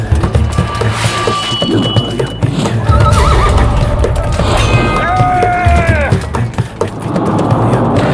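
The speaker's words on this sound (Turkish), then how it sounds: "atların kişnemeleri" Horses neigh and whinny loudly over pounding hooves and clashing noise on a large battle-scene set for a historical Ottoman drama, with several whinnies rising clearly above a dense, continuous din.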